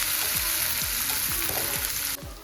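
Onion and garlic dropped into hot oil, a loud, dense frying sizzle with several short scraping stirs in quick succession, heard close up with no talking.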